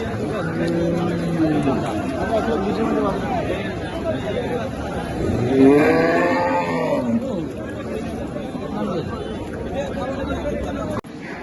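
Cattle at a crowded Eid livestock market in Bangladesh give a low, drawn-out moo that rises midway through, heard under constant crowd chatter and babble.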